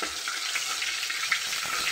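A bay leaf drops into hot oil in a cooking pot and fries with a loud, steady, close hissing sizzle that holds for the whole moment, with no voices.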